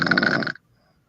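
A single rough, buzzing snore from a woman rattles close by for half a second, then cuts off into silence.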